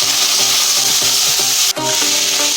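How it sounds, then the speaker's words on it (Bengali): Onion, ginger and garlic paste hits potatoes frying in a pan, giving a steady, close, broad sizzle for the whole stretch with a brief dip near the end and a faint tonal background underneath. "পেঁয়াজ আদা রসুন একসঙ্গে আমি হালকা পেস্ট করে নিয়েছি, বেশি মিহি পেস্ট করিনি। এই পেস্টটা আমি এর মধ্যে দিয়ে দিচ্ছি।"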